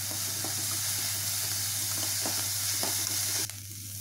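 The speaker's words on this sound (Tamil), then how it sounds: "நல்ல வெங்காயம் வந்து வதங்கிருச்சு" Onions sauté in a pan with a pinch of turmeric, crackling in a steady low sizzle with irregular spoon scrapes and stirring clicks, over a constant background hum, until the sound abruptly drops.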